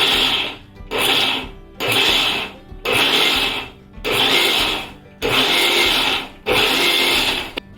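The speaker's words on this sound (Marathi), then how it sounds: "त्यासाठी मिक्सर बघा नुसतं ऑन ऑफ करावं" A kitchen mixer grinder crushing whole wheat runs in six short pulsed bursts, each a loud whirring grind of about a second, separated by brief quiet gaps as it is switched on and off.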